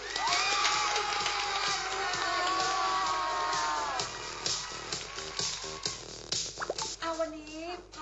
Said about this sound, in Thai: ขอเสียงปรบมือต้อนรับดังๆให้กับหนุ่มคนนี้โทนี่รักกัน